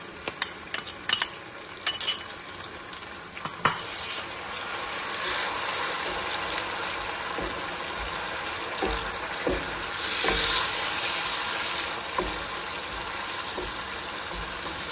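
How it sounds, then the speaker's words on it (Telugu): Onion paste frying in a pan with green chillies, curry leaves and fenugreek powder for a Telangana-style fish curry, giving a steady sizzle broken by stirring clinks and utensil taps, close and moderately loud with no talking. "ఆనియన్ పేస్ట్ కొంచెం పచ్చి వాసన పోయే వరకు వేగాలి"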